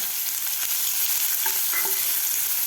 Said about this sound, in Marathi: कांदा आपल्याला थोडासा ब्राऊन कलर होईपर्यंत परतून घ्यायचा आहे